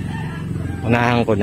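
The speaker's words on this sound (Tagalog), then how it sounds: "ingay ng manok, kokorus pa eh." A rooster crows loudly and close by near the end, its harsh drawn-out call following someone speaking over a background of clucking fowl.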